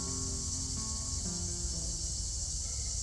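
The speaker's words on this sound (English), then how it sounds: "Grasshoppers, I think." Grasshoppers or crickets outside El Encuentro restaurant near Valencia, Spain, make a dense, continuous high-pitched chirring that holds steady and fairly loud throughout, with no voices.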